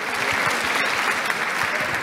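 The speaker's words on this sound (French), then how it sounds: "il ne nous reste plus qu'à vous applaudir et à vous remercier" An indoor audience applauds after a talk at a conference on supporting people with illness, steady dense clapping filling the room, with a faint voice underneath.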